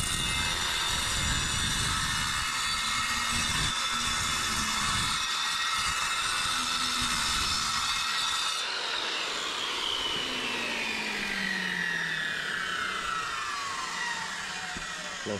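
A handheld power saw cuts a concrete block in half, giving a loud, unbroken grinding whine throughout whose tone shifts lower partway through the cut, with no voices.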